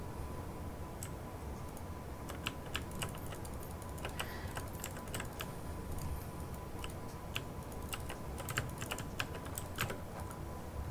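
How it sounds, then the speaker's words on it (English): Rapid keyboard clacking from someone hitting a lot of keys while playing an online space game, with dense irregular bursts of clicks running steadily throughout at close range, no voices. "Sorry if I have a lot of clacky clack. I tend to hit a lot of buttons."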